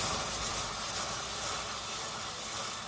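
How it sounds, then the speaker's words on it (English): Steady, loud hiss of steam rising as espresso is poured into very hot sugar in a pan for homemade coffee flavoring, an even broadband rush throughout with no voices. "The steam gets very hot"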